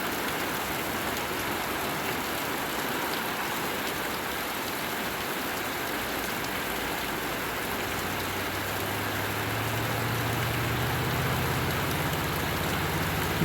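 Steady rain pours down outside in a dense continuous hiss, constant and moderately loud, with a low hum rising faintly underneath toward the end.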